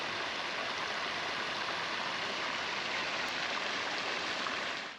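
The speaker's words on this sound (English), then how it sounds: "The Dancer Fountain is a contemporary sculpture built in 2007, and the fountain represents a female figure spinning in dance." Water splashing and rushing from the Dancer Fountain in Bratislava, a 2007 sculpture of a female figure spinning in dance. A continuous, even hiss of falling water, close and moderately loud, with no talking.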